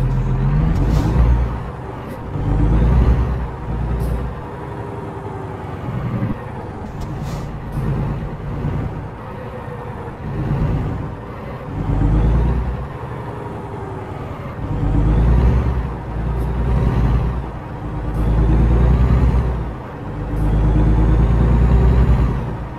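A truck in American Truck Simulator rolls through a parking lot, its engine droning loud and close, repeatedly revving up and easing off with air-brake hisses between the surges.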